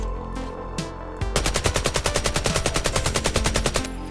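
Full-auto gun in a looter shooter video game firing a long, steady rapid burst of evenly spaced shots, loud and close, after a few faint sounds at the start.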